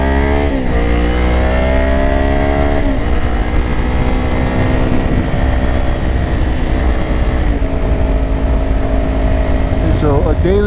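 A 2024 Kawasaki Ninja 500 accelerates on the highway with a loud, close engine whose pitch climbs and shifts through the gears over constant wind roar.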